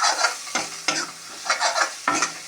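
An egg mixture with onion, tomato, red chilli and spices frying in a pan, stirred and scraped in repeated strokes over a steady sizzle, close up.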